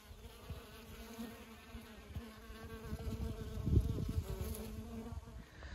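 Bees buzz steadily around a Langstroth beehive at a rural countryside apiary, a continuous droning hum that swells louder and closer toward the middle of the stretch, with no talking.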